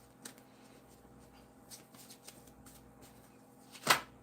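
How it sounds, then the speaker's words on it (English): Tarot cards are shuffled in a quiet room, giving soft, scattered riffles and taps with one sharper riffle burst near the end; no talking is heard. "I got to hurry up and shuffle."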